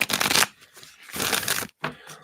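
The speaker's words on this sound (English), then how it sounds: "So we'll do one big shuffle and then split out." Tarot cards being shuffled in two quick riffling bursts with a short pause between, close and crisp, no voices.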